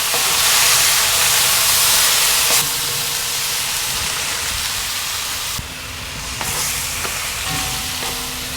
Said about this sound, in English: So we're going to cook these for 3 or 4 minutes until they turn pink.